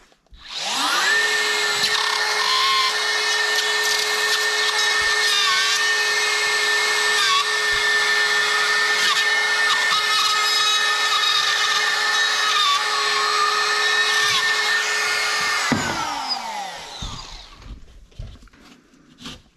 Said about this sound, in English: I should be able to pop out around that box, cut it counterclockwise.